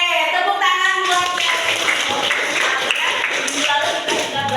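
A classroom group claps briefly, a short burst of scattered hand claps following a teacher's voice, with light talk and shuffling around it.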